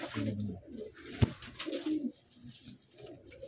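Pigeons in a breeder's loft coo in low, throaty rolling bursts close by, with a sharp click partway through and faint background noise.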